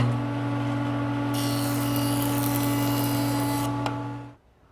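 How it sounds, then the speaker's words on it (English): Wood board edges run across a jointer for a nest of tables: a loud steady motor hum with a bright cutting whir rising over it for a few seconds, then the machine winding down. "one last step is to joint the edges so the pieces will be nice and tight"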